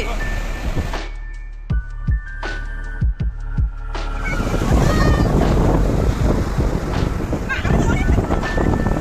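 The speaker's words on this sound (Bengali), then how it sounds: "সত্যি এখানকার ঢেউগুলো, এটা বড় আছে বড় আছে" Large sea waves break on a beach, a loud continuous roar with rushing surf and heavy wind buffeting the microphone; earlier a few sharp knocks and tonal hums sound, with people talking nearby.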